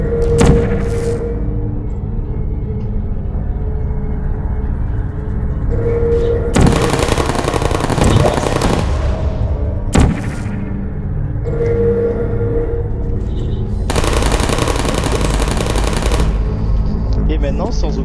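Automated turrets in the Portal video game spray bursts of rapid mechanical gunfire, loud and close, in two extended volleys separated by quieter game sounds and a sharp impact.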